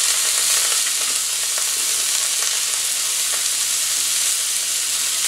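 Chicken meatballs and tomato paste fry in a pan, giving a loud, steady sizzle with faint stirring scrapes and no talking.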